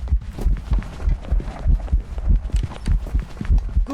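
A loud, bass-boosted, crunchy heartbeat from the video game Phasmophobia thumps in a steady, rapid rhythm, with deep, distorted low pulses repeating throughout.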